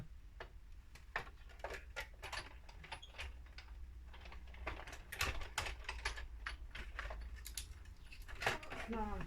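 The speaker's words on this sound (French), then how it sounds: "Alors je vais couper mon papier dentelé dans celui-là." Scissors cut decorative edged paper for a bohemian-style handmade card, giving a quiet series of close, crisp snips and clicks in irregular bursts.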